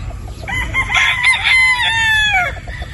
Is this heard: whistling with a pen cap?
no